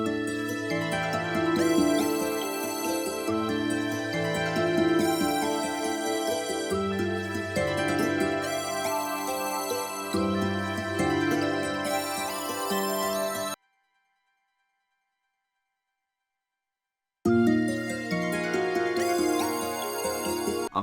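Simple string pattern from a music production session, layered with a harp preset an octave above, forming a bright, sustained melodic loop that plays steadily, cuts to silence for a few seconds, then resumes.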